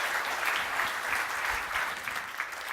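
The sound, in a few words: audience applause for a keynote speaker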